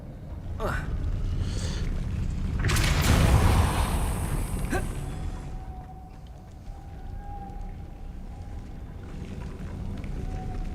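A Depulso force spell is cast in Hogwarts Legacy, a broad loud whooshing burst swelling and then fading over a few seconds, with a sharp crack before it and a faint sustained tone trailing afterward.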